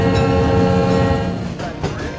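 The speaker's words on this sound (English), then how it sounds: "the loud noise of the train" Loud, close roar of a passenger excursion train on the LM&M Railroad, with a steady rumble and tonal horn-like drone fading slightly toward the end.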